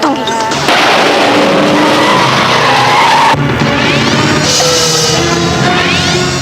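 A car skids hard to a stop, with loud sustained tire squeal and engine roar followed by a second screeching skid, close and intense and without speech.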